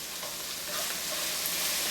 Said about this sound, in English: After adding the red chili powder, just mix it and switch off the flame and let it cook like this.